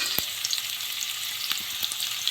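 Beef and onions frying in a pan, a soft continuous sizzle and crackle with a few small pops, fairly faint and close, with no talking.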